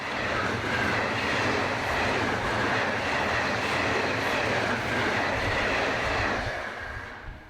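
A first-generation 4 VEP electric multiple unit running empty stock from Ashford to Ramsgate rolls past with a steady broadband rumble and faint wheel noise, holding loud and even before easing slightly at the end.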